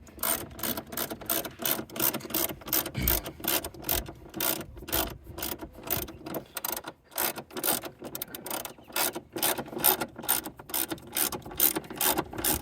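A ratchet wrench clicks rapidly and steadily while tightening the bolts of an AirAid cold air intake box on a 2018 Dodge Charger 5.7, a close, continuous run of ratcheting strokes with brief pauses.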